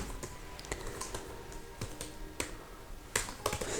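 Code typed on a computer keyboard, a close run of crisp key clicks arriving in irregular bursts with a few louder strokes near the end, no talking.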